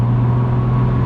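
A BMW Z4 with a six-speed gearbox and the exhaust backbox deleted cruises at 70 mph near 2,500 rpm, giving a constant low, steady exhaust drone inside the cabin with no variation.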